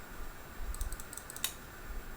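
A computer mouse clicks several times in quick light taps, close and faint, used on a trading chart in a quiet room.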